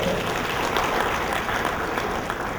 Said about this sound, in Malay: Kita bagi satu tepukan kepada.